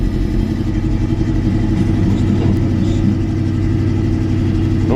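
A car engine with a weak battery and a large fuel leak runs at a rough, loud, steady idle close up, a deep throbbing drone with no voices over it.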